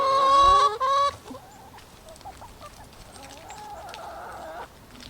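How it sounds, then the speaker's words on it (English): Backyard hens clucking and murmuring while pecking at garden scraps, a loud bird call opening the clip before softer, close clucks continue steadily. "Chickens are a garden's best friend."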